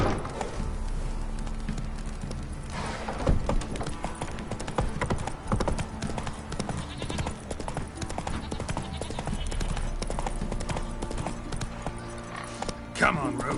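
Roach the horse gallops in The Witcher 3, with a steady, close clip-clop of hooves throughout, broken by occasional louder hoof thuds, under a voice and game sounds.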